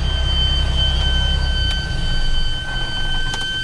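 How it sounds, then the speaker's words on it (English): A steady low mechanical rumble with a thin high whine from a truck, broken by a couple of short sharp hissing bursts of air as its air suspension bags deflate. "Apparently the airbags on this truck like to make a lot of noise when they go down"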